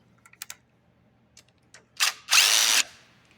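Power tool backing out the gas tank bolts on a 2003-2004 Kawasaki ZX6R motorcycle, a few light clicks and taps followed by two short, loud whirring bursts, the second held longer, close by.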